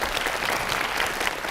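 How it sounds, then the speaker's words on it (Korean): Dense, even applause from a lecture audience of university students in Seongnam, a continuous wash of many hands clapping with no voices over it. "박수 한번 쳐주세요."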